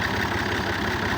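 A tractor engine idling steadily up close during rotavator field work, a low even throbbing rumble that runs unbroken throughout without any voices over it.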